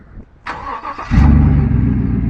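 A Chevrolet Silverado Z71 pickup truck engine, with catalytic converter removed, cranks briefly, then catches and roars into a loud, rumbling idle that holds steady.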